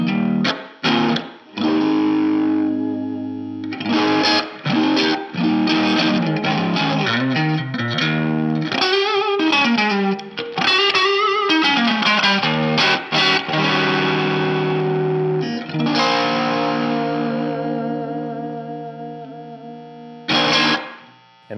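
An electric guitar plays through an original 1980s Dumble Overdrive Special amp. Distorted chords and single-note phrases ring out loud and close, with brief pauses between phrases.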